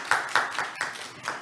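A brief burst of hand clapping from an audience at a forum seminar in Gwangju, a few sharp claps standing out over a thin, short round of applause.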